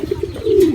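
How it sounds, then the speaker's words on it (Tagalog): A racing pigeon coos and flutters near the loft at the finish of a derby lap. The brief, close burst is low and rhythmic and heard on its own. "Eto na yung ating isang ibon."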